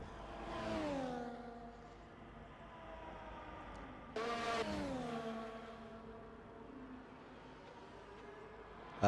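An F1 race car's high-pitched engine in a racing video game rises and falls through two loud passes on track, with revs sweeping down after each peak and a quieter engine drone between them.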